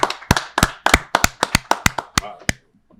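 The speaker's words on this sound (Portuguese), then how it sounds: "Salva de palmas aí também, vamos lá." A small audience claps at a talk-show recording, about a dozen sharp, evenly spaced claps that ring out close and clear before stopping.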